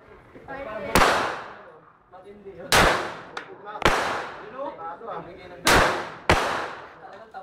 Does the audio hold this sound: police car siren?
no